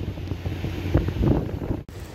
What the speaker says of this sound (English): It's getting very, very windy